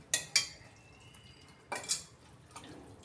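A spoon stirs cluster bean (gavar) curry in a pressure cooker pot, giving a few sharp, quiet clinks of metal on metal separated by brief pauses, with no one talking.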